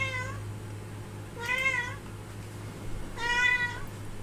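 A nearby cat meows three times at regular pauses, each call clear and drawn out over a low steady hum.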